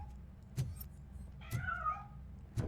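A cat in a video game gives a single wavering meow between soft thumps in an otherwise quiet scene.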